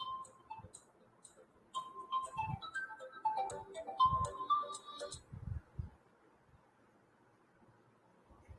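A phone ringtone plays a bright repeating electronic melody for several seconds, then stops, leaving quiet room background.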